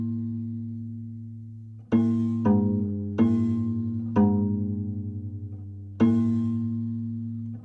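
Prepared piano with an eraser placed on the string: low, rubbery plucked notes with a buzzing, pulsing resonance, five struck tones ringing and decaying one after another, close and alone.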